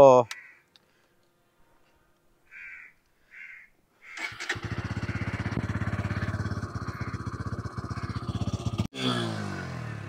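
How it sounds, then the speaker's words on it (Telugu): A Bajaj Pulsar N150 motorcycle engine with an underbelly exhaust starts after a quiet stretch with a couple of short blips, then settles into a steady, throbbing idle close by. "ఈ బండి యొక్క ఇంజిన్ ఎగ్జాస్ట్ నోట్ అయితే ఒకసారి విందామండి."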